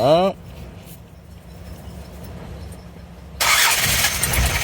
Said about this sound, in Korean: 실내로 들어와서 차량 시동 한번 걸어보도록 하겠습니다